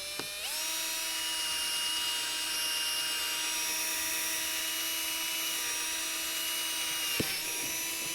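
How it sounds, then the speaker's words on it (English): Power drill boring a hole in the body of a Honda Element SC for a fog light install, a steady high-pitched whine running continuously at close range for about seven seconds before stopping abruptly, with no talking. "I'm going to go ahead and drill this one out."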